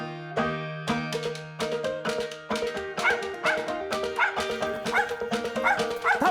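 Hunting dog barking steadily at a squirrel treed during a squirrel hunt, a rapid run of loud, close barks and yips, one drawn-out opening bay, with no talk over it.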